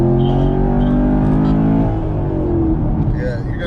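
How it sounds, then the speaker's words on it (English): Chevrolet Camaro V8 muscle car rumbling on the highway, a steady deep engine drone with rising harmonics as it accelerates, close and loud throughout. "you're going to get that V8 rumble and grumble immediately"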